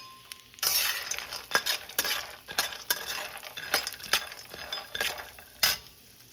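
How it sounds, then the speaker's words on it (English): Almonds roasting in ghee in a pan, heard up close as a light frying sizzle with repeated scraping and clinking strokes of a utensil against the metal, and no talking. "now I am going to drop the almonds and I am going to roast them"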